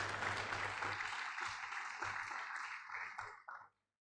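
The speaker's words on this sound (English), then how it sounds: "A round of applause for Mr. VC, please." Audience applause at a physiotherapy profession induction ceremony for a graduating class, a dense, steady wash of clapping that carries on for several seconds before stopping abruptly near the end.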